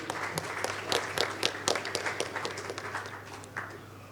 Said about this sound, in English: A big round of applause for all the panelists and our CCMs.